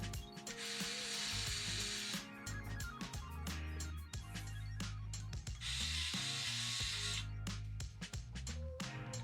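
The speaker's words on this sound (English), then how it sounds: "I prefer using this little power tool, put it to use." A small power screwdriver whirs in short bursts while working on a lightsaber, alternating with clicks and handling clatter, close and moderately loud, two longer buzzing runs standing out.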